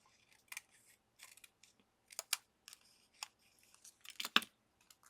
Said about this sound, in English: I'm going to cut away the star.